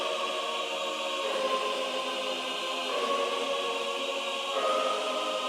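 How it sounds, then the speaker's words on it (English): Sustained synth pad layered with Olympus Elements Sustains Ensemble chorus chords, a dense smooth wash of held harmonies with slow chord changes, steady and full, with no voice. "So the pad and the chorus together sounds like this."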